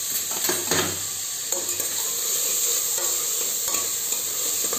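Onions being stirred and roasted in a pan for a Khandeshi mutton rassa, a steady loud sizzle with repeated scraping strokes of a spatula, close and alone.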